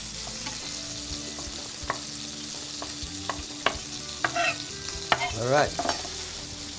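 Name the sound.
boneless quail frying in a pan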